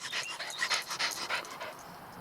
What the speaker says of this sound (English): Oh, there's a dog. That's not my dog.